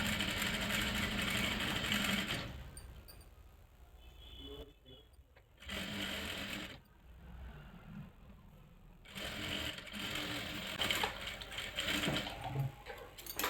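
A sewing machine runs in bursts while stitching a fine seam along the edge of a frock sleeve, whirring steadily with brief pauses between runs.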